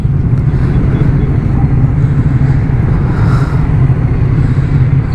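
Triumph Scrambler motorcycles rumble past on a group breakfast ride, a loud continuous engine drone with steady low-end roar and wind noise throughout.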